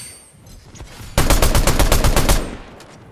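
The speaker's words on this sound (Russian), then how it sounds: "А он стреляет по нашим вот этим вот снеговичкам-то, да?" Rapid automatic gunfire in the video game Fortnite, a burst of about a dozen sharp evenly spaced shots lasting over a second, loud and close after a quiet start, with no speech.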